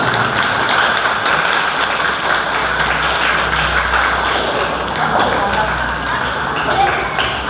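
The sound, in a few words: audience applause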